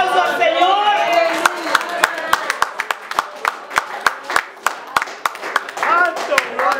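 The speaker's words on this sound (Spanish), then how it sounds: "¿Cuándo le dan un aplauso al Señor?" A church congregation bursts into applause, a dense wash of clapping with sharp individual claps standing out, while voices call out over it throughout.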